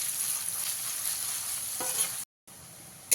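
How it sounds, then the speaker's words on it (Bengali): Thinly sliced onions fry in hot oil and spices with a soft continuous sizzle and light stirring. A brief silent gap falls near the end. "এবারে এর মধ্যে দিয়ে দেবো পেঁয়াজ কুচি"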